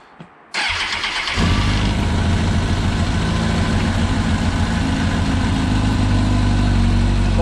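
Kawasaki ZX10R sport motorcycle engine fired up after a clutch change, a sharp starter crank catching into a loud, close, steady idle that holds without any talk.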